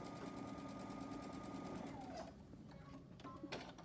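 A sewing machine runs steadily, stitching a quarter-inch seam on a quilt block, its fast even whir close and continuous for about two seconds before stopping, followed by a few faint clicks and handling noises.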